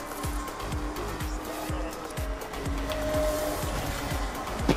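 Tyres squeal as a video game car drifts over a steady engine roar with repeated revving pulses, loud and continuous throughout.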